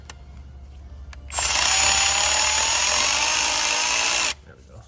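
A cordless power tool snugs a 7 mm bolt on a Ford diesel truck's relocated upper fuel filter line, whirring loudly and steadily for about three seconds before cutting off, with quiet workshop background before and after.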